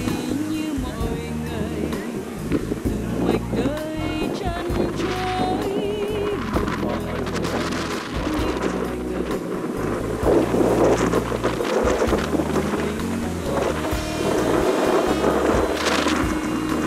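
Wind gusting over the high tea hills of Cầu Đất near Đà Lạt, a steady loud blustery roar with buffeting rumble on the microphone, continuous throughout with scattered background noises.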